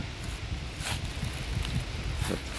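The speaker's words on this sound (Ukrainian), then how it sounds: "За шум, друзі, вибачайте, бо сильний вітер в ліці." Quiet, continuous rush of strong wind through beech forest, with faint rustling and a few soft crackles, no talking.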